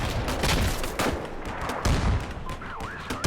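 Dense, continuous gunfire crackles up close in the tactical war game Combat Mission Black Sea, a marksman's shots among rapid bursts and fusillades with no pauses.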